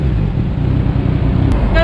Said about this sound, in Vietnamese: Bây giờ mình sẽ thử cây bô SC-S1 nhưng mà loại bé hơn để xem âm thanh của cái cây bô cái bé hơn nó sẽ như nào nhỉ